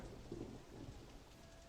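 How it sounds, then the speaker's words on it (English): In a video game, rain hisses steadily with thunder rumbling low underneath, the whole storm soft and distant with no one speaking. "The rain is so fitting here."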